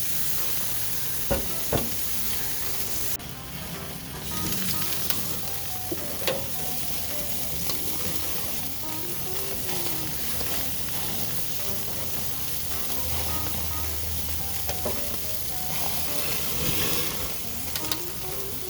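Beef keftas sizzle and fry on a hot grill, a steady broadband crackle with intermittent pops and small spits running throughout, close and fairly loud with no talking.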